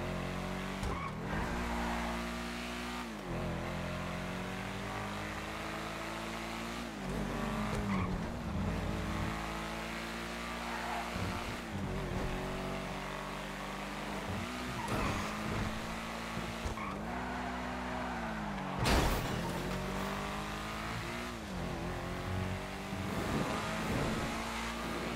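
A sports car in the GTA video game loops in circles, its engine revving and rising and falling as tires squeal in repeated long skids, loud and steady with no talk over it.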